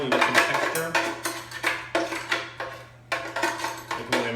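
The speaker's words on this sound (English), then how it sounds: "I can only imagine how annoying this is to hear me scraping my blender." A utensil scrapes and knocks against a blender jar in a kitchen during a cookalong, a series of uneven, close scraping strokes with a steady low hum beneath.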